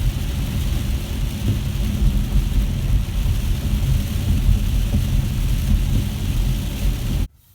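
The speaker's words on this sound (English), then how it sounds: "You can tell this is what I call socked in, set in rain, not just scattered stuff." Heavy, steady rain roars continuously with a deep low rumble underneath, then cuts off abruptly at the end.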